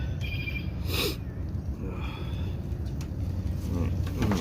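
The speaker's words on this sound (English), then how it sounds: "Blow my nose." Someone blows their nose into a bandana handkerchief during an outdoor fishing outing, one short forceful honk near the start, with a speaking voice and low background noise throughout.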